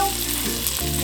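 Bacon frying on a winter homestead, a steady close sizzle and crackle with a low hum underneath, no voices.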